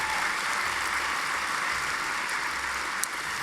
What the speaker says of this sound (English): A big round of applause for all of our staff.